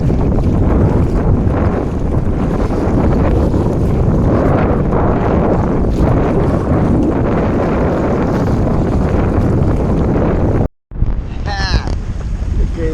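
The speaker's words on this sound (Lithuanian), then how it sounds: "vėjas toks kyla, nemažas, bus tikrai labai jėgovai" Strong wind roars steadily across the microphone aboard a sailboat at sea on a crossing from Stockholm to Gotland, a loud, continuous rushing that briefly cuts out near the end, with no talk.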